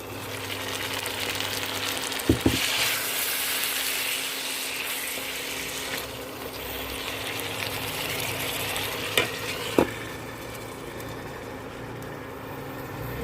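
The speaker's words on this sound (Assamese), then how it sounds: "মাংসটো ফ্ৰাই হৈ লওক আগতে।" Chicken meat frying in a pan with chopped tomatoes for homemade chicken biryani, a steady close sizzle with occasional stirring clanks and no talking.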